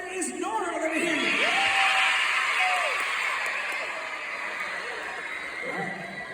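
A crowd at a D.A.R.E. graduation concert screams and cheers in a dance-off vote, a loud swell of shrill whoops and shouts that peaks early and then settles into steady, slightly quieter cheering.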